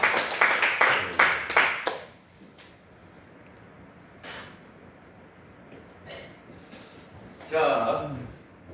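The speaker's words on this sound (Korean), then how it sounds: "수고해 주셔서 너무 고맙다고 박수 한번 쳐주시기 바랍니다" A church congregation claps for their pastor in a short, brisk burst of applause that stops after two seconds, leaving a quiet room with a few scattered noises and someone speaking.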